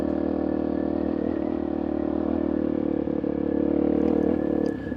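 A motorcycle engine rides along an off-road trail near Moab, a steady loud mid-pitched drone with rough clatter that holds continuously with no talking.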